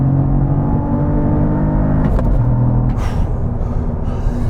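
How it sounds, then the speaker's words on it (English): Cadillac CT4-V Blackwing sport sedan on the move, a steady low engine drone and road rumble from inside the cabin, with a faint whir and slight pitch shifts as it drives. "All right, time to drive the CT4-V Blackwing."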